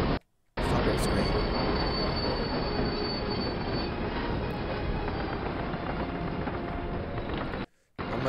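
A train passes in the World War II shooter Call of Duty: United Offensive, with loud, continuous wheel squealing and grinding rail rumble filling the scene, cut briefly by a silent gap at the start and end.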